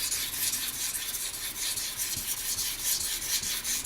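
A ZDP-189 steel knife is drawn across a sharpening stone in repeated short abrasive rasping strokes, close and steady, with no talking.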